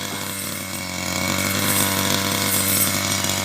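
A petrol power cutter fitted with a saw blade slices through grass for cattle feed, its steady high-revving engine drone running loud and unbroken, swelling slightly louder partway through.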